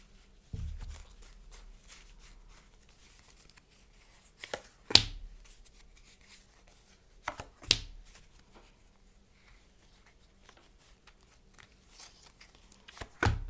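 Tarot cards are laid out in a quiet room. A handful of sharp, separate slaps and snaps are spaced several seconds apart, with near silence between them.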